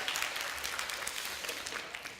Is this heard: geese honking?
no